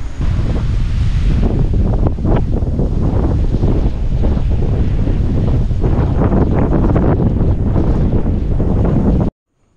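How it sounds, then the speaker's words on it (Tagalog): Strong wind at a campsite in Tanay, Rizal buffets the microphone in loud, continuous roaring gusts for most of the clip before cutting off abruptly near the end. "Hangin dito guys."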